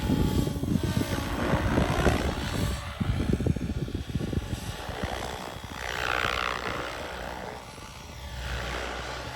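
A Goosky RS6 RC helicopter flies at low head speed, its rotor whine and buzzing blade chop steady and fairly loud, swelling and easing as it moves about outdoors, with no voices.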